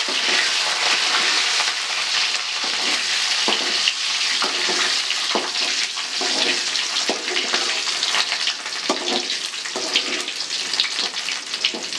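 Garlic frying in oil in a pan for a Tamil home-cooked kuzhambu, a loud continuous sizzle and crackle with occasional stirring scrapes, no talk.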